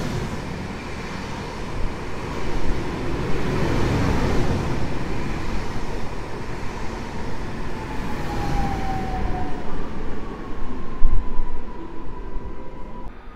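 An Impuls electric commuter train passes through Warszawa Zachodnia station during construction, a steady rumbling roll with rising mechanical noise and a brief high whine near the end, heard alone at moderate loudness.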